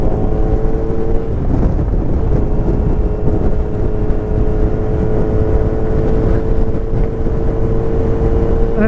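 A 2023 Kawasaki Z900 ABS motorcycle is ridden at a steady pace, its engine a loud, constant drone. Heavy wind rush buffets the microphone throughout.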